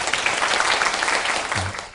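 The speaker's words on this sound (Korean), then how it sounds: "박수로 한번 부탁드리죠." A university lecture audience claps to welcome a corporate guest speaker, a dense, fairly loud burst of applause that tapers off after a couple of seconds.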